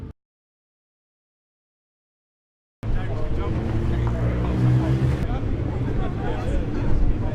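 Radical race cars at Donington Park pull away at a race start, their engines suddenly roaring in after a silent gap and holding loud and close, with a commentator speaking over them.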